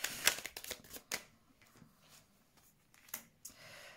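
Tarot cards are shuffled by hand at close range, with quick papery riffles and flicks in short uneven bursts, heard alone without speech.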